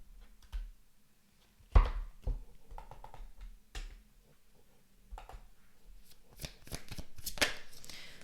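A deck of tarot chakra cards is shuffled by hand, giving sharp riffles and soft slaps at irregular intervals, close and fairly quiet, ending in a longer flurry of rapid card flicks.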